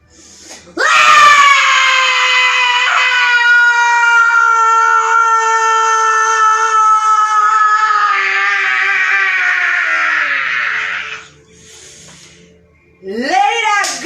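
A family shouts together in a long, loud group scream during a yoga session. The cry holds steady for about ten seconds, then fades, and a brief fresh burst of voices follows.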